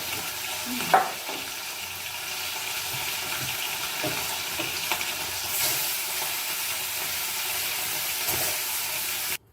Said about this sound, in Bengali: এই যে আমার মাছ ভাজা হয়ে গেল।